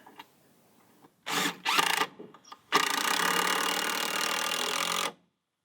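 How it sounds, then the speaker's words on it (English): Power drill driving screws into wooden porch runners: two short buzzing bursts followed by one longer sustained whir of a screw sinking in, close and loud, then silence. "I'm going to put 2 screws in every one of these runners here"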